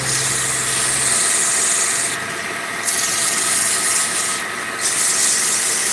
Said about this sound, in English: I'm just letting the sandpaper do its job.